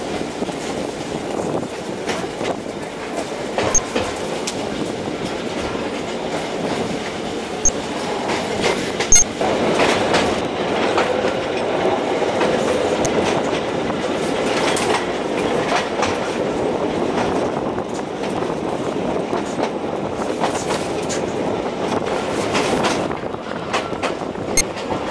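A narrow gauge train runs through Polish countryside, climbing out of a narrow river valley, its wheels clicking steadily over rail joints with a continuous rumbling roll and occasional sharper squeals, close and loud throughout with no talk.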